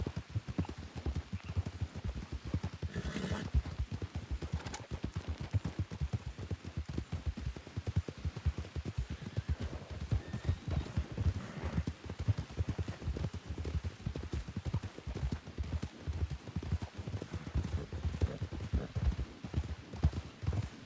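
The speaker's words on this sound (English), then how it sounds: "Apollo is a good horse when he's behaving" Steady clip-clop of horse hooves at a trotting rhythm in the video game Red Dead Redemption 2 roleplay, continuous and fairly close, with faint background sounds throughout.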